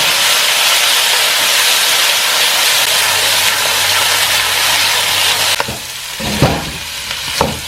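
Pork belly drops into hot rice bran oil in a wok and sizzles loudly with a dense, steady hiss. Near the end the hiss eases and a few clattering knocks of stirring come through.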